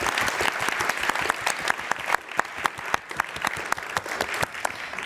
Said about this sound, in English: And applause to all of you.